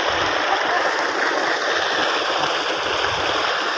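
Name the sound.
tubewell motor pumping water from a well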